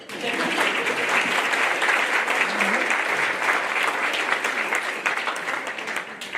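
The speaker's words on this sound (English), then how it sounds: "I think we should clap for them." Audience applause at an awards luncheon honoring educators, a dense sustained clapping from a crowd that holds steady for several seconds before tapering slightly at the end.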